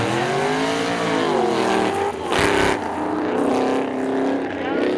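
A 1992 Chevy Corvette and a 1990 Chevy Corvette drag race side by side at Seekonk Speedway. Their engines roar loudly and steadily with rising and falling pitch as they rev, while an announcer talks over the racing.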